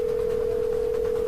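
A telephone dial tone, one steady unbroken hum held at an even level from start to finish, close and clear with no voices.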